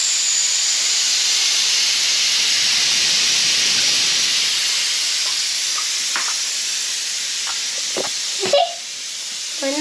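Steady loud hiss of steam rushing from a pressure cooker valve after it has whistled, while oxtail stew cooks inside; the even roar fills the whole span, with a few small clicks and knocks near the end.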